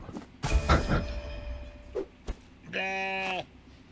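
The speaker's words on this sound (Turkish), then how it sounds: "Keçiler" A short goat bleat in the video game Contraband Police rings out near the end, strained and wavering, after a few scattered thuds and clatters in an otherwise quiet scene.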